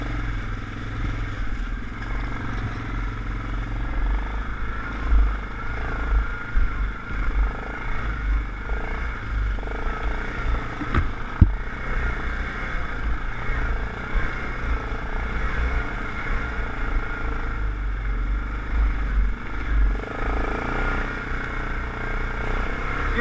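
An ATV engine droning at low revs while riding a dirt trail, a steady rumble with small surges and some rattling, moderately close, with no talk.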